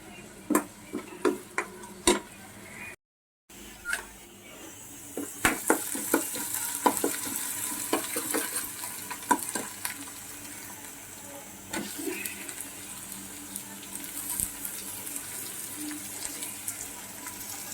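Chopped onions and green chillies fry in a pan for a mutton drumstick curry. A few sharp spatula taps come first, then a steady sizzle builds with scraping stirs running through it.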